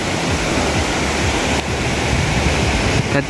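A river near a rustic riverside spot at Bukit Cendono, Mojokerto, rushes steadily with a loud, dense, unbroken roar of flowing water, close by and without speech.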